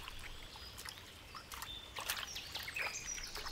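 Chicks and adult birds call along the Elbe river, scattered thin chirps and peeps over a soft watery background, moderately near and fairly faint.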